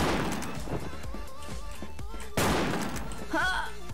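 Bursts of rapid automatic gunfire crackle through a video game firefight, loud and close, with a voice talking over the shooting.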